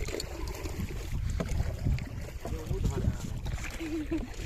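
A small wooden rowboat moves on the Ganges, with a steady wash of water and wind noise under intermittent nearby talk and voices throughout.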